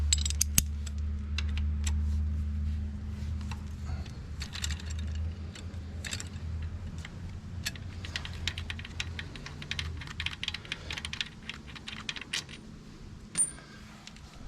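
Metallic clicks and ticks of a T50 Torx bit working three bolts loose on the front sprocket cover of a BMW F850GS motorcycle, close and irregular over a steady low hum, with no talking.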